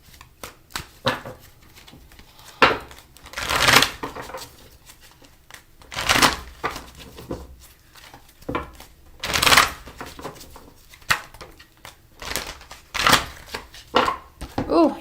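Repeated bursts of tarot cards being shuffled, crisp riffling sweeps recurring every couple of seconds, close and fairly loud, with no talking.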